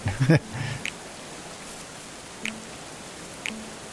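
Steady rain falls in the medieval colony-building game Going Medieval, a soft continuous hiss running throughout with a few brief louder game sounds popping over it.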